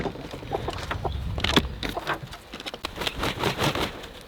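Chickens on a farm cluck and squawk in short, irregular bursts, several birds close by and fairly loud, with scattered rustling between calls.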